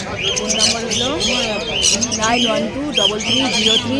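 Caged birds at the Dakshineswar bird market in Kolkata squawk and chirp in repeated harsh bursts close by, under people talking.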